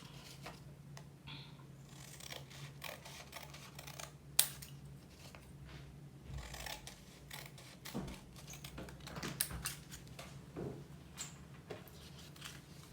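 Scissors snip coffee filter paper into strips for a first-grade chromatography art project, with quiet irregular crisp cuts and small clicks in a calm room.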